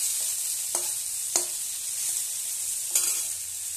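Pumpkin greens with long-cut brinjal, potato and carrot frying in oil for chorchori: a continuous, even sizzle close by, broken by three sharp clicks of a spatula against the pan.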